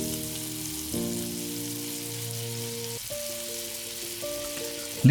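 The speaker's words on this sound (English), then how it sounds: "Now you can add the ginger garlic paste and continue to stir." Onions with ginger garlic paste fry in a pan for chicken dum biryani, giving a steady broadband sizzle throughout under a layer of sustained tonal background music.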